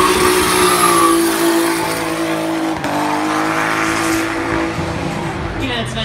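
A drift car accelerates hard along the Trackwood race track during a drift qualifying run, its engine roaring loud and close with tire squeal throughout, while a commentator talks over it.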